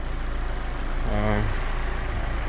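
A Daewoo Lanos engine idles steadily during an engine flush under constant background hum, with a brief rise in pitch midway as if revved slightly; a voice is briefly heard.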